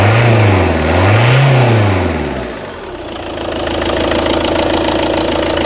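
Diesel car engine running after weeks parked, slightly rough and grumbly: a close, loud revving that rises and falls twice, then drops to a steady idle.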